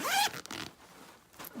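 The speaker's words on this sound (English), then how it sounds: "The zipper pull also has this leather, I think it's leather, and pretty smooth zipper." A smooth non-metal zipper with a leather pull on a Vera Bradley bag is drawn open in one quick, close, loud zip, followed by faint handling rustle and a brief second scrape near the end.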